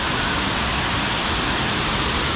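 Waterfall below a boulder-strewn river trail at Wawa Dam, heard as a steady, loud broadband roar of rushing water that fills the clip without pause or voices.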